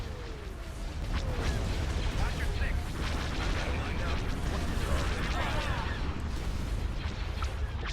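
Laser cannon fire and explosions in a Star Wars space battle game, a dense continuous roar of blasts and booms with rapid bursts layered over one another, loud and sustained throughout.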